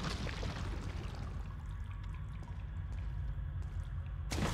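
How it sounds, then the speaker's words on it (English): Water sloshes and drips in a sewer area in Resident Evil 4 on the GameCube: a steady, dense liquid churn over a low rumble, continuous throughout, with a brighter splash right at the end. "Slosh."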